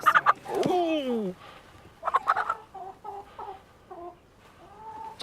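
Hens cluck and squawk close by in a run of short calls, one loud rising squawk at the start followed by softer scattered clucks and murmurs.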